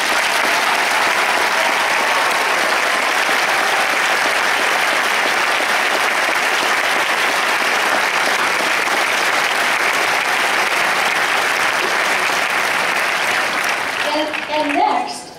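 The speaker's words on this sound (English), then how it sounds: "I'd like everyone to give them a big thank you and a round of applause" An audience applauds the faculty as they stand at a ceremony: steady, dense clapping from many hands fills the room for about fifteen seconds before tapering at the end.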